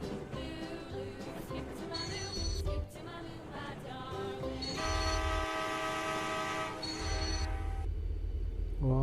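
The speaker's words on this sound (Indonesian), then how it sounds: "Oh benar, ada kereta yang lewat di depan teman-teman." A toy or animated train scene: a train rumbles past in front while horn-like tonal blasts and whistles sound over it, fairly faint, with shifting layers of music-like tones.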